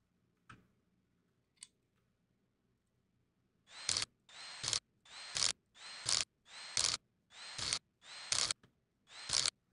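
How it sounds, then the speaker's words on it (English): A ratchet tightens engine bolts on a hatchback engine, giving eight quick rasping clicks in an even rhythm, each a short burst with a pause between. It is close and clear, after a few faint taps in near silence. "I think that's all our bolts tightened."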